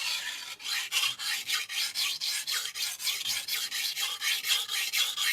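A dull knife is stroked repeatedly across a 400 grit sintered diamond sharpening stone, giving a steady rhythmic rasping scrape, about two strokes per second, close and fairly loud with no talking.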